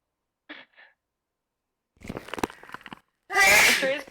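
Faint murmurs and scattered sounds, then one loud, forceful sneeze bursts out at the end.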